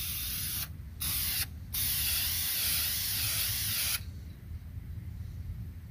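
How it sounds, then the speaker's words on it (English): A can of Dupli-Color red caliper enamel hisses in three bursts onto a metal hood: two short sprays, then a longer continuous one, close and loud, followed by quiet room noise. "I was just going to spray this on"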